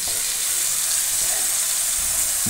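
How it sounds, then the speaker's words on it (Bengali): Cauliflower and potatoes dropped into hot spiced oil that has been cooked down, giving a loud, continuous hissing sizzle that stays strong throughout. "এবার আমি ফুলকপি আর আলুটা দিয়ে দেবো।"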